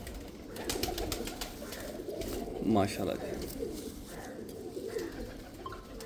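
Pet pigeons coo close by amid other bird sounds, a soft repeated cooing under men's conversation.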